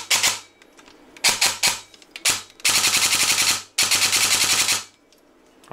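An airsoft replica gun with a short stroke gearbox and pneumatic setup fires several quick bursts, then two longer rapid full-auto strings, loud and close with a crisp mechanical clatter.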